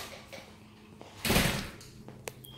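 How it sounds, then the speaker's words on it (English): A door at home is opened with a short scraping slide lasting about half a second, near and fairly loud, framed by small clicks and knocks in a quiet room. "I can open the door."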